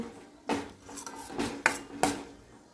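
Tomato chutney being mashed and mixed in a pan, several distinct scraping strokes and metallic utensil knocks in an irregular rhythm, close and fairly quiet.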